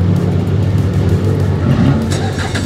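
BMW and MINI race cars idle and rev on the grid just before the start at Okayama International Circuit, a loud, steady engine drone filling the scene with a sharper rise near the end.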